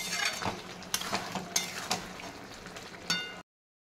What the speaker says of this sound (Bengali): তারপর ভালো করে তরকারিটাকে নাড়িয়ে একটুখানি হালকা ড্রাই করে নিতে হবে।